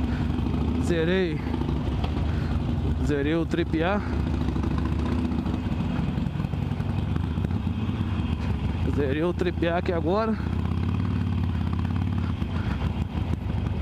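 A Harley-Davidson 883 Iron motorcycle idles steadily at a fuel stop beside the BR-101 highway, a low continuous engine rumble running throughout while someone talks over it.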